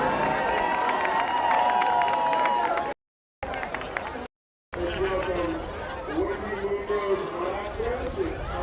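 Crowd applause and cheering in the stands at a varsity high school football game, a busy mix of clapping, chatter and voices, with brief gaps of silence partway through.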